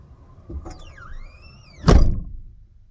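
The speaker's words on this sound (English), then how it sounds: "I'm going to slam the door." The rear door of a 2006 Saturn Vue converted for car camping slams shut with a single loud thunk near the end, after a squealing creak as it swings closed.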